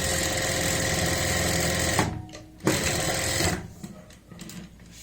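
A sewing machine runs in a fast, loud, steady whir while stitching along buckram for a neckline, stops briefly, then starts up again before winding down.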